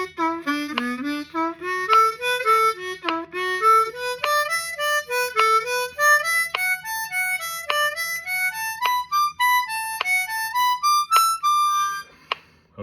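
A blues harmonica plays a stepping scale pattern up and down in clear, evenly timed notes, loud and close, with faint steady metronome clicks ticking underneath.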